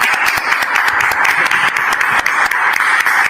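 Audience clapping in a studio setting, loud and dense with many hands striking rapidly and continuously, a close, bright, even roar of applause with no breaks.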